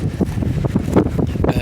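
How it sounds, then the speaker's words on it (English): Strong, gusty wind near a hurricane's tail end buffets the microphone in uneven bursts at Falmouth, a rough rumbling roar with no other clear sounds. "it is like really windy up here, and I could hardly move"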